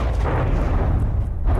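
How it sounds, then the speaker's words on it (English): Cartoonish bombs bursting during a naval battle in From the Depths, a continuous low rumbling barrage of booms with no talking. "I do like these little cartoon bombs"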